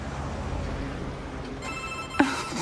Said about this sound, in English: when you call my phone, you used to hear it go ring